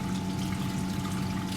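Water rushes steadily through a half-opened valve on an orifice meter test rig, a continuous broadband hiss with a low pump-like hum underneath, constant in level with no talk.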